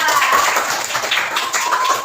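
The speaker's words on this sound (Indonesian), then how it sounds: "Tepuk tangan untuk kelompok 2." A classroom full of people clapping together, a steady dense patter of applause at close range that lasts throughout.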